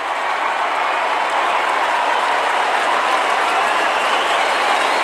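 A packed AFL stadium crowd at a Brisbane Lions v Geelong Cats match roars after a Brisbane goal, a loud, steady wall of cheering that holds for several seconds with no voices standing out.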